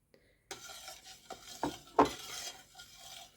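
A spoon scrapes and clinks around a container of milk, a few uneven stirring strokes heard close up, with no voices.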